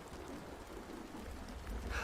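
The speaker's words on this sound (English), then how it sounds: "Can't get with it, sweetie. It's the rain." Steady rain falls outdoors as a soft, even hiss of drops, moderately distant, with no voices, swelling slightly near the end.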